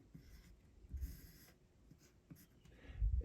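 A pen or pencil writes numbers by hand in short scratchy strokes, faint and close, with soft pauses between figures during a division lesson.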